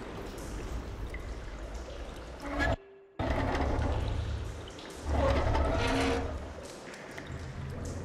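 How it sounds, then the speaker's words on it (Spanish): Water flows in Horizon Forbidden West after a valve opens, a steady rushing pour that cuts out briefly and then returns, with surges of gurgling splashes and no talk. "Aloy, escucho agua por aquí."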